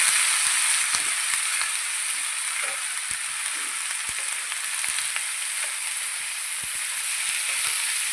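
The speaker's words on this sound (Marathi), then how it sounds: "आता त्या छान आपल्याला तेलामध्ये अशा परतून घ्यायच्या" Broad bean pods sautéing in hot oil with browned garlic, producing a steady, bright sizzle close up, broken by small scattered pops and spatters throughout, with no voices.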